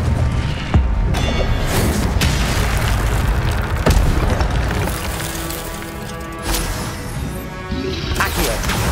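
Fiery Incendio spell blasts from Hogwarts Legacy on PS5, a dense run of loud booming, crackling impacts and bursts layered with other spell effects, sustained throughout with occasional sharper hits.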